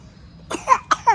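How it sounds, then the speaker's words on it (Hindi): A sick young child coughs several times in quick succession, close and clear, each short hacking burst followed by a brief gap, in a quiet indoor room. "ऐसा खांसी हो रहा है उसको पूरा दिन"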